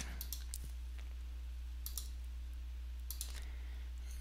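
A computer mouse gives a few crisp, quiet clicks at a desk, scattered with gaps of near silence over a low steady hum.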